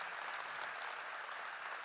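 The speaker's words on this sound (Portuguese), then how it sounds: "Quem pode dar um aplauso ao Senhor Jesus por isso?" A church congregation clapping together, a dense, even wash of applause that is quiet and distant, with no voices over it.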